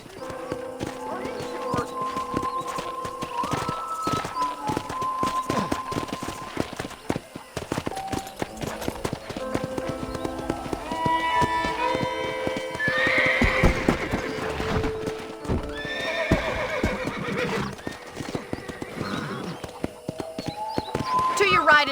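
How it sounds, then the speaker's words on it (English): Horse hooves clip-clop along with occasional whinnies in the PC game Red Dead Redemption, set against steady background music and ambient game sound, with a voice talking over it. "let's see if you can still ride a horse"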